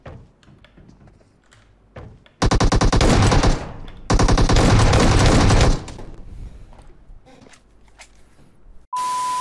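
Rapid automatic gunfire from PUBG Mobile, a loud sustained burst, a brief pause, then a second long burst, followed by a short electronic beep.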